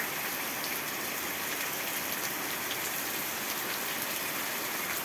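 Heavy rain pours down at night in a dense, steady hiss of drops hitting surfaces, constant and fairly loud throughout with no voices.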